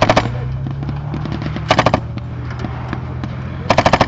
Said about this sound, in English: The infantry section will always move in sequence, ensuring they are constantly firing in the enemy's position.